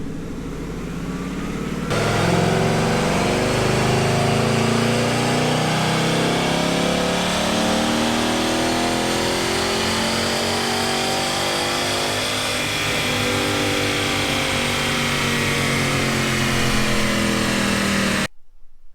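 A 2018 Ford Mustang GT with a Level 2 naturally aspirated package roars on a dyno during a baseline pull, the engine note loud and sustained, climbing steadily in pitch before cutting off abruptly near the end.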